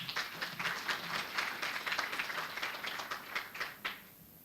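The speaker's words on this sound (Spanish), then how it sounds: "un aplauso también para ella" Audience clapping to welcome Estela Ortiz at a streamed event, a modest scattering of claps heard from a distance and fairly faint, tapering off near the end.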